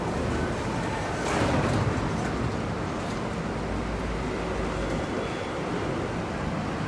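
An MTR K-train runs at Olympic Station in Hong Kong, a broad steady rumble of wheels and motors with a brief swell of louder noise early on, heard from close by with no talking.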